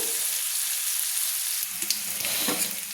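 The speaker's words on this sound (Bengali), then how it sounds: "এক মিনিট ধরে আমি আলুটা ভেজে নেব" Diced potatoes fry in a pan for a Bengali spinach and prawn dish, giving a steady, close, loud sizzle throughout with a few brief crackles and no talk.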